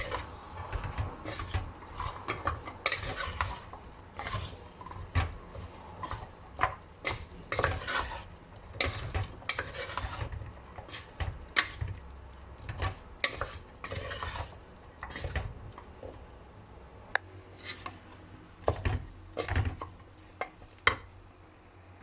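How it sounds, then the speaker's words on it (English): Carrots and French beans stirred in a pan: busy, irregular scraping and light clatter of the spoon against the pan, close up, with a soft sizzle underneath and no voices. "So now I'm going to add in some carrots and some French beans. Stir this."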